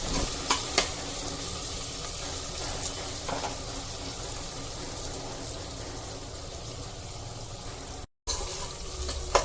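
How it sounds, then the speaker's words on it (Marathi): Chopped onion sautéing gently in a pan for green peas rice gives a steady close sizzle throughout, with scraping stir strokes and occasional sharp taps and a momentary dropout near the end; no one speaks. "कांदा इथे गोल्डन ब्राऊन करायचा नाही आहे तर तो गुलाबी रंगावर पारदर्शक होईल इतकाच परतायचा आहे"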